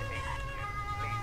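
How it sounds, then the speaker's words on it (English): A steady wailing police car siren in a video game, Autobahn Police Simulator, with a low engine hum underneath, continuous and fairly loud throughout. "Let's turn on the sirens because it's getting a bit crowded over here."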